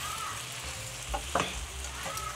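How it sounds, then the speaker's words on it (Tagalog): Macaroni soup (sopas) in a pot is stirred vigorously, with a steady sizzling bed and a few sharp spoon scrapes and knocks against the pot, close and without talk. "At, kailangan natin siya haluin ng bonggang-bonggang-bonggang."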